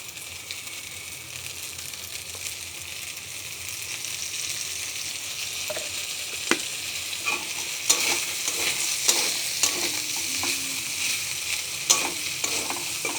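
Salted boiled pasta fries in soybean oil in a pan with a constant, close sizzle, while sharp clinks and scrapes of stirring break in more often toward the end.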